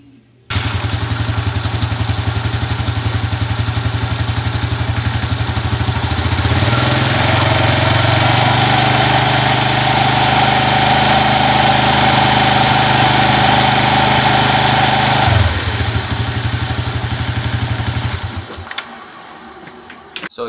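A small scooter engine with CVT runs steadily at high revs for a long stretch, loud and buzzing, its pitch shifting slightly midway before winding down.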